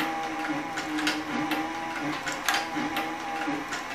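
A harness-making sewing machine with a compound feed walking foot runs slowly and steadily, its needle strokes tapping in an even mechanical rhythm with a low motor hum, close by and alone.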